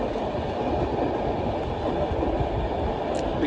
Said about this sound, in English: here comes Liverpool Lime Street Class 390. It's 390008. It's a 9-coach unit.